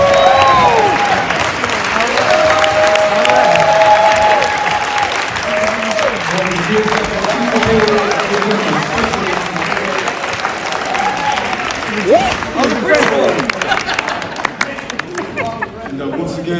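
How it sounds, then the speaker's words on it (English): An audience applauds the people who took part in a film: loud, sustained clapping from a crowd, mixed with chatter and a few voices that rise over the claps. "so everybody can give them a round of applause"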